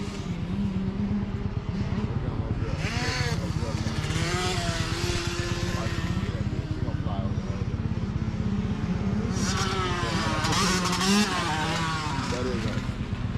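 A Yamaha YZ250 two-stroke motocross bike on a track, engine held on the gas through a jump, buzzing loud and steady up close with rising and falling revs, while a voice talks over it.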